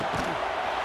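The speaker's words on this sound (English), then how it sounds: "Listen to the crowd energy here in the early going." A stadium crowd at an Appalachian State vs Michigan college football game in EA Sports College Football 26 roars in a steady, dense wash of cheering with a brief low thump near the start.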